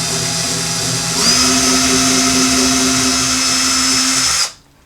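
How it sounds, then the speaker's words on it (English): A power drill whirs steadily, its pitch climbing as it speeds up and bores into wood for a guitar tuner hole, then cuts off abruptly, leaving near silence. "take the drill, put it in there so I feel the tip of the drill bit"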